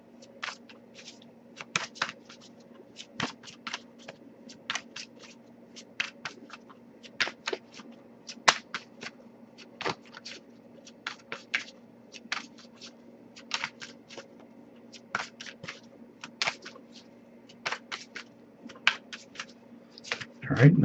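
Repeated crisp riffling and snapping of tarot cards being shuffled, in quick irregular bursts over a low steady hum, close by, with no talking.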